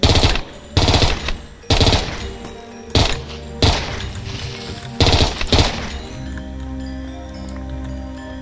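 Rapid bursts of automatic gunfire from a machine gun in the Minecraft From the Fog mod, several loud stuttering volleys separated by short pauses, then a quieter tail of clattering and ambient tones.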